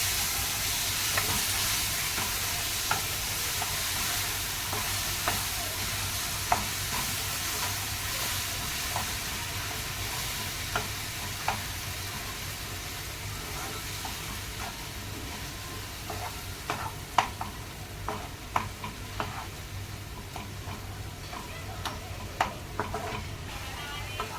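Spices and jaggery stirred together in a pan while cooking homemade muramba, a steady low sizzle with occasional scraping clicks of the spoon throughout, fairly close and moderately loud, with no talking.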